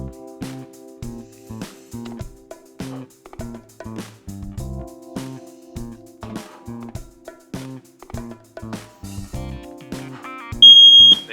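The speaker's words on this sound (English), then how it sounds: "Home alarms triggered once I got the bigger puffs." Rhythmic low electronic tones repeat throughout, then a loud, piercing home smoke alarm beep, set off by vape smoke, cuts in briefly near the end.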